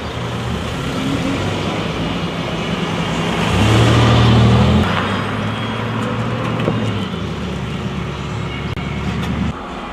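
A car driving through the city of Marson gives a steady engine and road rumble from inside, swelling briefly around the middle as it speeds up, then settling back into a constant drone.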